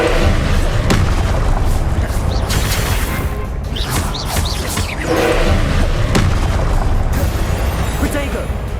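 Confringo blasting spell explosions in the Hogwarts Legacy video game, repeated booming blasts and heavy thuds over a dense, noisy battle din, loud and close throughout.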